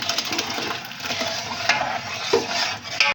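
Masala paste fries in hot ghee over high heat for chicken and potato korma, sizzling steadily while a spoon stirs and scrapes against the pot, up close with no talk.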